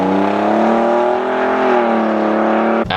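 Ford Raptor EcoBoost engine revving steadily, loud and close, its pitch easing through a smooth torque converter transmission shift before a brief break near the end.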